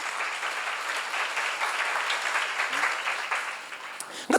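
A church congregation at a seminar breaks into sustained applause on cue, a dense, even clatter of clapping that fills the room for several seconds before tapering off.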